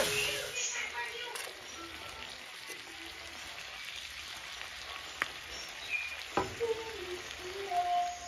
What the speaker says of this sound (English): So I'm going to go ahead and get my vegetables in there and let them get cooked up.